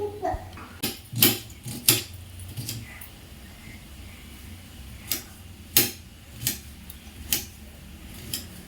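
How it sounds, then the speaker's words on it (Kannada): Knife chopping onions and green chillies on a board in a home kitchen, with sharp irregular knocks in small clusters and pauses between them, close and distinct over faint room noise. "ಅಂದರೆ ಈರುಳ್ಳಿ, ನೆಕ್ಸ್ಟು ಹಸಿಮೆಣಸಿನ್ಕಾಯಿ ಎಲ್ಲಾನು ಹೆಚ್ಚಿಟ್ಕೊಳ್ಳೋಣ ಬನ್ನಿ"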